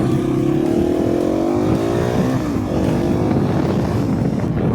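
A KTM 690 SMC R single-cylinder supermoto motorcycle pulling away, its engine note climbing through rising revs and a gear change, loud and close throughout with steady rumble underneath.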